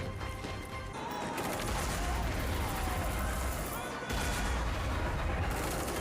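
Grenade blasts and gunfire from a Legends of Tomorrow crossover episode, a dense, rumbling barrage of booms with a short lull midway, heard at a distance beneath a voice talking over it.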